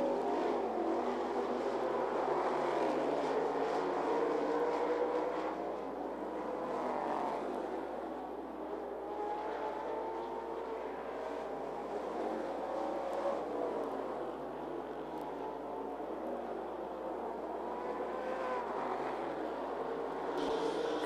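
Street stock race cars roar around 411 Motor Speedway, a sustained mid-distance engine drone that swells and fades as cars pass along the straightaway.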